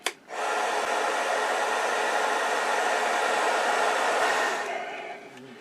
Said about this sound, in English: grab a heat gun and shrink that down.